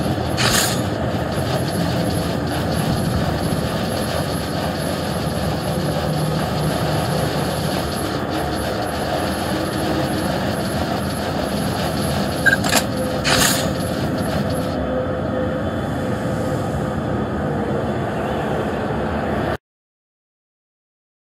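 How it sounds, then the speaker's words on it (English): Helicopter in the video game God Eater Resurrection: a steady, loud rotor and engine drone that holds for about fifteen seconds, then thins and cuts off to silence, with no talking. "The chopper should be here any moment."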